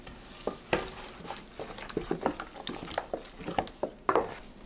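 Chili powder being stirred into a salt, minced garlic and ginger syrup seasoning in a bowl, with a series of close, uneven scraping and clicking strokes, quiet and without talk.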